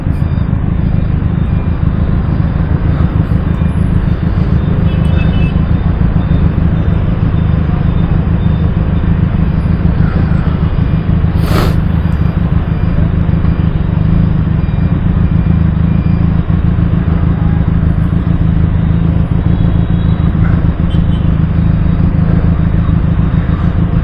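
A Benelli TRK502 motorcycle rides through dense Ho Chi Minh City traffic, its engine a constant loud, low rumble mixed with heavy wind noise for the whole stretch.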